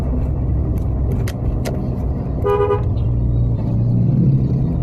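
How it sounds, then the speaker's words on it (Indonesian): A short car horn toot sounds over the steady rumble of a car engine and road noise. "Saya ngasih lampu, ngasih klakson dulu"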